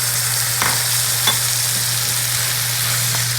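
Butternut squash, scooped from its skin, sautéing in a pan for soup: a steady broad sizzle with a few soft stirring scrapes and clicks, close and continuous, with no talking.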